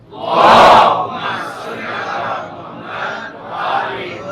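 A large congregation at an Ashura religious gathering answers with a loud salawat chant, a swelling collective chorus that rises, dips and surges again in waves.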